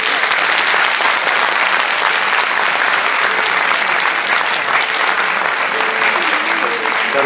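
Warm applause from a theatre audience at a Christmas play at the Trianon Theatre, a dense, loud, sustained wash of clapping from many hands that holds evenly from start to finish.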